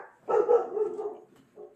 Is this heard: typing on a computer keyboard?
no